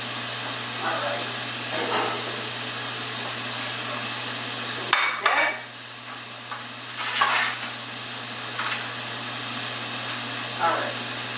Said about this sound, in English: you know it's hot enough because you hear that sizzle as you put them in the pan